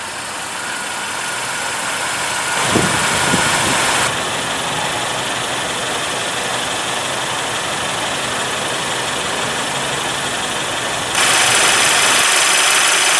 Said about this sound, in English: we do get a 2-liter turbocharged inline 4-cylinder that produces 241 horsepower and 273 pound-feet of torque